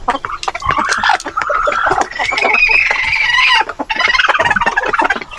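A hen clucks and calls loudly and close by near her nest among farm fowl under bamboo, with continuous drawn-out vocalizing broken by a brief pause.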